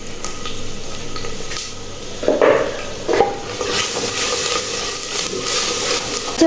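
Spoon stirring and scraping through frying ginger-garlic paste and onions in a clay handi, soft wet sizzle underneath with a few distinct scrapes and knocks near the middle, close and moderately loud with no talking.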